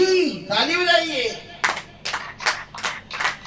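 Church congregation clapping along in a steady rhythm of about five sharp bursts, following a preacher's sung or chanted line, with voices heard at the start.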